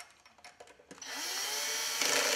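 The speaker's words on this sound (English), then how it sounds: "In fact, you'll hear this drill kind of releasing when I did that." A power drill tightens the brush holder on a taxi vac or hair vac motor: a few faint clicks and handling taps, then a sustained whirring drill run that lasts until the end.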